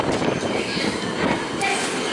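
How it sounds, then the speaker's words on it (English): A train pulls out of Brixton station, leaving a steady rushing rumble of rail noise and moving air that fills the platform from start to finish. "wind blowing because the train's just left."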